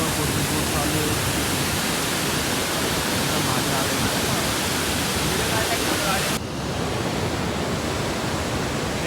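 Balaji waterfall near a temple, a loud, steady broadband roar of falling water filling the whole clip, close and continuous with no voices.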